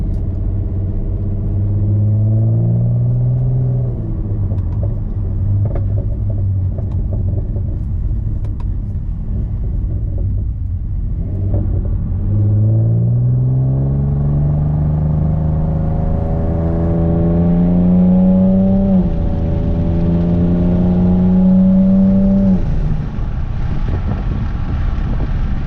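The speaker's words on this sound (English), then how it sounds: "just giving the car a little spin, make sure nothing is freaking out or whatever" A 7th gen Nissan Maxima fitted with new headers runs loudly close by, its engine rumbling as it revs and pulls away, pitch rising and falling through repeated accelerations over a steady drone.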